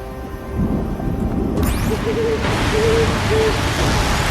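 Owl hooting in the video game Horizon Zero Dawn: a few soft, evenly spaced hoots over a steady rumbling ambient wash, moderately distant and alone without talk.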